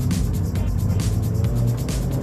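A Peugeot 208 GTi's engine drones steadily under way, a loud, continuous low rumble with slight rises and falls in pitch as the car is driven, no voices over it.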